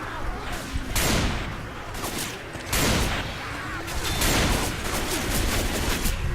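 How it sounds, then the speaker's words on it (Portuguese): Gunfire in the zombie shooter Left 4 Dead 2: dense, overlapping bursts of shots fire continuously and loudly, with people talking over the shooting. "vocês podem atirar nos zumbis"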